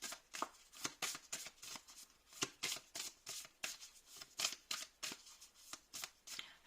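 Message cards for a card reading are shuffled by hand in a quick, regular series of crisp riffling bursts, about three per second, close and soft, with no voices.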